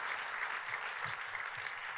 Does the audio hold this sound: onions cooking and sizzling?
no